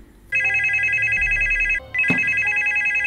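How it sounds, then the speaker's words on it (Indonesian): A telephone rings loudly and close, one long electronic trill that pauses briefly before a second ring starts, with a short thump between them. "Ia sangat berharap telepon itu sudah tak berdering lagi."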